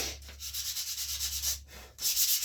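Rawhide backing on a paddle bow being sanded by hand, a steady scratchy rubbing in repeated back-and-forth strokes, close and fairly quiet, with a brief pause before the strokes resume.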